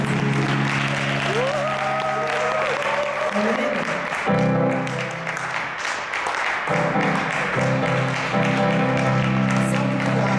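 A church congregation applauds steadily and loudly to acclaim the king of glory, a dense continuous wash of clapping under sustained music, with no pause throughout.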